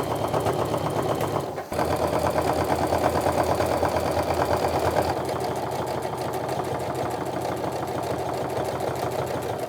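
A sewing machine stitches a sturdy tote bag with a fast, continuous mechanical whirr and rapid needle chatter. There is a brief pause near the start, and the running pitch shifts partway through. The sound is close and steady.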